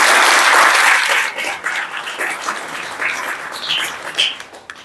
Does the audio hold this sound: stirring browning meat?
no